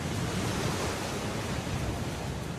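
The Qiantang River tidal bore surges upstream as a frothing wave, heard as a dense, unbroken roar of rushing water, loud and steady throughout with no voices.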